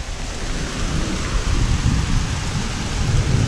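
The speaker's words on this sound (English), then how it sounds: "the sound of rain, and even to some extent, for many, the sound of the thunder" Steady rain falls throughout, a dense wash of drops with low rumbling underneath that swells slightly, like distant thunder rolling beneath the downpour.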